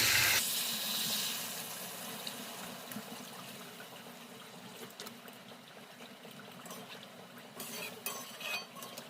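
Water poured into a pot of spiced potatoes after the masala has been fried down, a steady splashing pour with a gurgling tail that stays fairly loud across the whole stretch.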